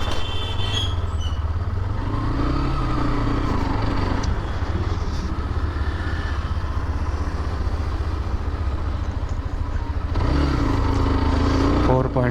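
A Rapido bike-taxi motorcycle carries a passenger through Lucknow traffic toward a drop-off point, its engine a steady, loud drone with road and wind noise throughout and surrounding traffic sounds.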